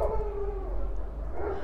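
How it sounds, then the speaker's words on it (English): A dog howls and whines faintly in the background of a room, a short sustained yowl against low hum. "sorry for the dog barking."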